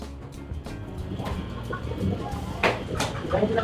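Broiler chickens cluck and squawk in short bursts amid indoor bustle in a poultry shop in Kuwait, with faint voices and clatter in the background.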